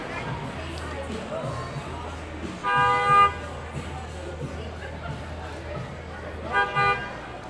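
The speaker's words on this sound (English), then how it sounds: "Honk honk." A car horn sounds on a busy downtown Toronto street on a Saturday night, first as a sustained honk and then as a shorter one a few seconds later, over steady traffic and street noise.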